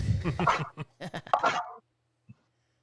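Several dogs give a burst of quick, close barks and yips, loud and clustered, then fall silent apart from one short yelp near the end.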